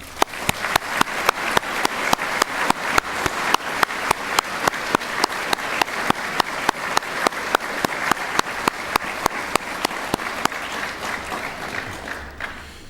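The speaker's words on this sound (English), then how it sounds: "please join me in a round of applause for all the Swinburne staff" An audience at a university graduation ceremony applauds steadily for the whole stretch, a dense wash of many hands clapping with no voices over it, easing off slightly at the end.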